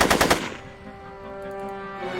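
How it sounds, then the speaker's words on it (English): A rapid burst of gunfire in the Back to the Future adventure game, several loud close shots in quick succession, then a ringing tonal hum as the volley stops. "Are you shooting at me?"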